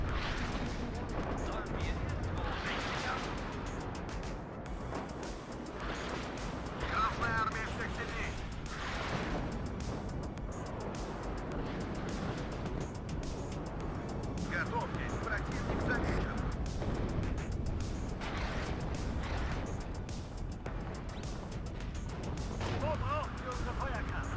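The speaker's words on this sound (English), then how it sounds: "Here's the artillery spam." Artillery barrage in the real-time strategy game WARNO: a continuous, loud rumble of overlapping blasts and booms with repeated heavier bursts, and game voices faintly mixed underneath.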